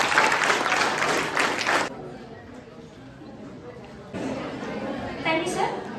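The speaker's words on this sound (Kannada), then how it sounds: "ಜೋರಾಗಿ ಚಪ್ಪಾಳೆ ಹಾಕಿ." An audience at a school farewell party for SSLC and PUC students claps loudly in a dense burst, dips to a quieter patter, then swells again with crowd chatter mixed in.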